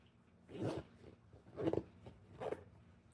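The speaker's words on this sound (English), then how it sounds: "Zipper fly, again with a YKK zipper." A YKK zipper on the fly of Kuhl Law pants is worked three times, each a short close rasping pull with quiet pauses between.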